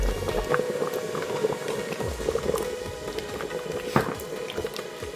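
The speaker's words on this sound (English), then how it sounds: "and let it boil" Alfredo sauce boiling in a pot with chicken and potatoes, a steady close bubbling and simmering hiss with small pops throughout, heard alone without talk.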